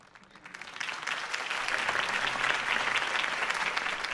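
Applause from a crowd in the video game Batman: The Telltale Series swells within the first second and holds steady as a dense, sustained clatter of clapping.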